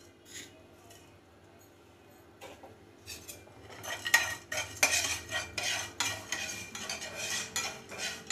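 A spoon stirs masala with cumin in a little oil in a pan, quiet at first, then a run of repeated clinking scrapes against the metal with a faint sizzle underneath.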